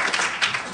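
Audience clapping at a Black Hat USA 2010 security conference talk, a brief burst of steady applause that ends almost as soon as it begins.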